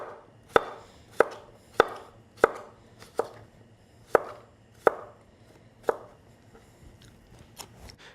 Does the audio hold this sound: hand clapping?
no